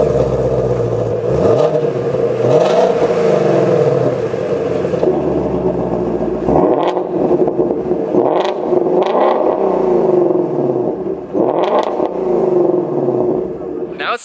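A 2020 Shelby GT350 Mustang revs repeatedly through its quad-tip stainless steel dual exhaust, loud and close, with rising and falling blips in a steady rhythm while someone talks over it.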